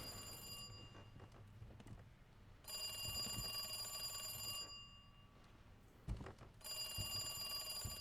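Two bursts of a telephone ringing in Resident Evil 2 Remake, a bright electronic bell tone that sounds, stops, then rings again over a low ambient game background hum.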